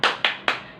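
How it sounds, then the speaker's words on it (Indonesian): A class of young children claps a rhythmic 'tepuk semangat' spirit clap in a classroom, three sharp group claps in quick succession, loud and close. "Kita tepuk semangat terlebih dahulu ya"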